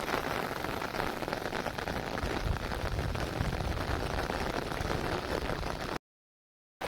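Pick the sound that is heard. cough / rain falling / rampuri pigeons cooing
rain falling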